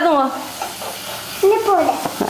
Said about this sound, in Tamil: வெங்காயம், பச்சை மிளகாய், கருவேப்பிலை எல்லாம் போட்டு இப்படியா வதக்குது பாருங்க